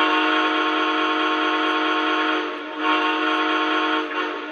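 A single sustained whistle from a Lionel Hiawatha toy train set blows steadily for several seconds, a bright chord-like tone with brief dips in loudness, close and alone.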